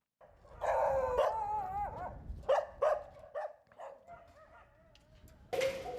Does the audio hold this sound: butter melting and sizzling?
no